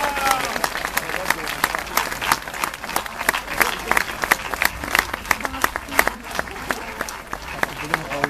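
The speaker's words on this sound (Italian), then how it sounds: "e accogliamola con un grande applauso" Crowd in a town square at a political rally applauding, a moderate, uneven clatter of clapping with distinct sharp claps standing out and voices mixed in.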